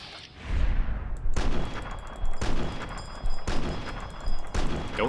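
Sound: gunfire from a .308 rifle in the video game Fallout: New Vegas

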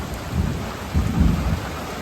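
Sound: thunder and rain

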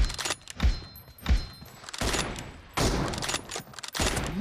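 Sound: M24 sniper rifle shot in the video game BGMI

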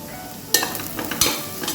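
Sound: stirring biryani garam masala and spice powders in a hot pressure cooker

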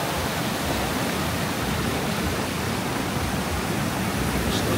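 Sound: storm seawater pouring down promenade steps into the sea

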